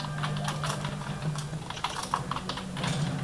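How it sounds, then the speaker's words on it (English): Steady computer-keyboard typing with rapid, uneven key clicks over a constant low hum, close and moderately loud, during keyboard play of the game Unreal Gold. "Keyboard."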